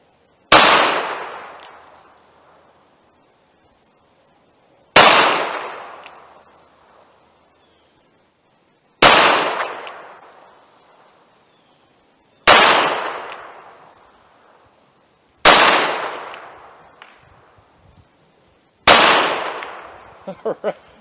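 A .38 Special revolver fires 200 grain Super Police rounds in single action: six loud, sharp gunshots, each ringing out and decaying before the next, evenly spaced about three seconds apart.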